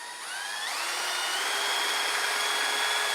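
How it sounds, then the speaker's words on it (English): A power drill whips two-part expanding foam for a taxidermy form mold, a steady high whine that rises in pitch early on and then holds a continuous loud drone, with no talk. "And we're going to whip this with a drill."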